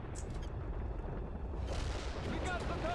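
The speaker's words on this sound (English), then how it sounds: "That was a fuel bomb." A fuel bomb explodes in a war video game, a heavy, rumbling blast that rolls on as a sustained roar with crackling debris and distant gunfire mixed in.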